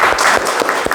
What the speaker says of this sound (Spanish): Pido un aplauso para Lili